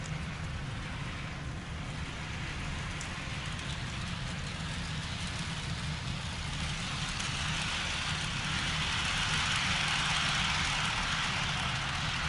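A steady rolling hum and rattle of an HO scale miniature train running on its track, swelling slightly louder toward the end as it comes back around, with no talking.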